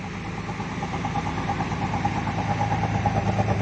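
Diesel engine of a Hino AK Ranger bus, a steady low idling rumble from the exhaust with constant vibration, close and fairly loud throughout, no talking.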